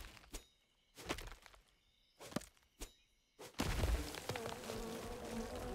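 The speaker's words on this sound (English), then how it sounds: "Bees!" Bees buzzing in the game Len's Island, heard as a sudden swelling drone that sets in after several sharp whacks and then holds steady and fairly loud.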